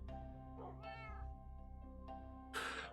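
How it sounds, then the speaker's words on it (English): Cats meow in the Minecraft video game, several distinct mewing calls in quick succession over a steady low background hum, fairly quiet and with no talking. "Just hearing those cats in the background."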